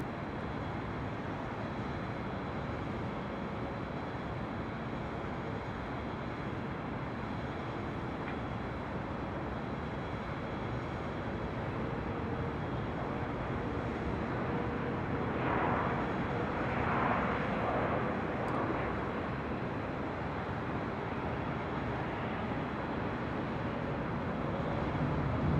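An airliner taking off from runway 24 left at LAX, heard from atop a high hotel as a steady, broad engine roar that holds at a fairly even level and swells slightly toward the end.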